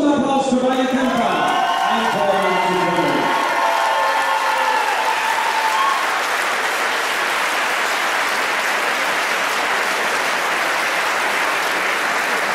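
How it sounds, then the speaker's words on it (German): A crowd at a combat sports fight event applauds and cheers for the fighters, dense clapping building into a loud, sustained roar after a voice speaks over a PA at the start. "Meine Damen und Herren, ich denke von Ihnen noch einmal einen großen Applaus für meine Kämpfer."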